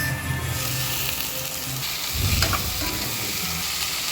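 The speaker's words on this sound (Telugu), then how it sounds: "ఇప్పుడు ఇదే ఆయిల్లోకి ఆనియన్ కొద్దిగా ఫ్రై చేసుకోవాలా" Onions sizzle in hot oil for chole masala with a steady crackling hiss, a brief stirring scrape partway through, close and fairly loud.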